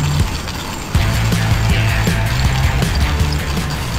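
Coffee beans being ground for tubruk-style coffee, a coarse grind, giving a steady rattling, ratcheting mechanical crunch with rhythmic clicks, close and fairly loud throughout.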